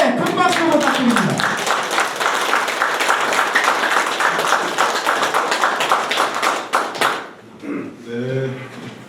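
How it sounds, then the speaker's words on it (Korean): Loud audience applause greets a former justice minister arriving for a special lecture at an anti-corruption academy; dense clapping runs for several seconds and then fades, with a voice at the start and end. "크게 큰 박수 부탁드립니다."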